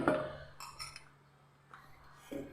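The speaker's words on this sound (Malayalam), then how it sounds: "ഇനി ഞാനിതാ മിക്സിയുടെ ജാർ എടുത്തിട്ടുണ്ട്" A mixer grinder jar is picked up and handled in a home kitchen, giving a few light clinks and knocks of metal and plastic, with a quiet pause between the close, soft bumps.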